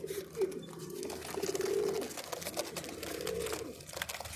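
Soft pigeon cooing from fancy breeding pigeons, a few low rolling coos repeating in a steady rhythm, close by, with faint background noise and no speech.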